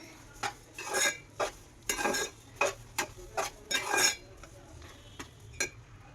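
Spoon scraping and knocking against a pan while sugar is stirred into semiya kesari, a series of uneven metallic scrapes and clinks, close and fairly quiet.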